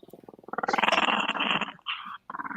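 A puppy growls close by in a short, rising, rumbling snarl that pulses rhythmically, breaks off briefly, then resumes in two more bursts.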